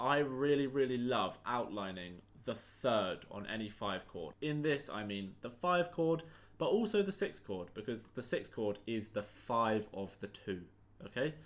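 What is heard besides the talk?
No everyday noises stand out.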